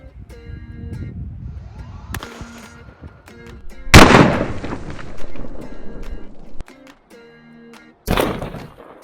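Gunshots are fired at steel bulletproof armor on a Montana ranch. Several sharp, loud blasts with long decaying echoes ring out in the open, one at about four seconds the loudest, with faint background noise between.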